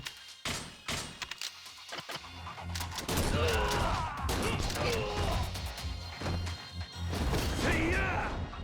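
Shotgun blasts ring out in a Yakuza brawler game, sharp bangs in quick succession mixed with crashing impacts and smashing debris, followed by a loud, sustained chaotic stretch of fighting noise.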